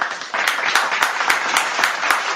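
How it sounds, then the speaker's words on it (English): Several people on a podcast show clap in a brief quick burst of bright, evenly spaced claps close to the mics, with no talk over them. "Clap it up."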